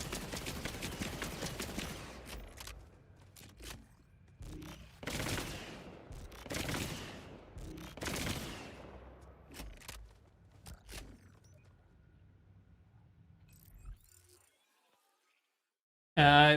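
Bullets firing from a weapon in a video game: a quick rattling burst opens, followed by several separate heavier shots with decaying tails, then a few sparse fainter pops before falling quiet.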